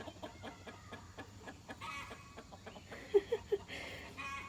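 Farm chickens cluck in quick excited bursts, faint and a little distant, with a few sharper, louder squawks near the end.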